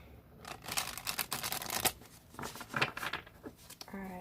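A deck of tarot cards is shuffled by hand in repeated quick riffling bursts, close and fairly soft, with short pauses between passes.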